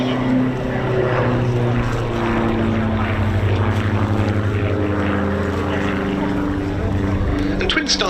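A Diamond DA42NG Twin Star twin-engine aircraft at an airshow, with a loud, steady propeller drone and engine hum that hold throughout, while someone talks over it.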